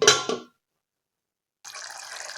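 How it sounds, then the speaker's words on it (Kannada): Water is poured into a radish sambar mixture in a cooking pot: a short splash, a pause, then a steadier pouring trickle, close and with no voices. "ಒಂದು ಅರ್ಧ ಲೋಟದಷ್ಟು ಇದಕ್ಕೆ ನೀರು ಹಾಕೋಣಂತ"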